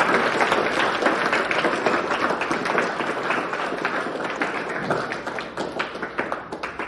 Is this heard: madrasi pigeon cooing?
no